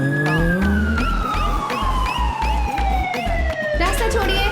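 Ambulance siren wailing loud and close in a busy street scene, a continuous sweeping tone that slides downward over several seconds, with heavy low traffic or engine rumble underneath.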